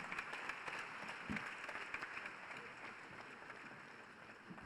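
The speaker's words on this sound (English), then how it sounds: "Please give him a round of applause once again." Steady applause from a seated audience fills the room after a health minister's speech, a continuous wash of many hands clapping at moderate distance, quiet and unbroken throughout.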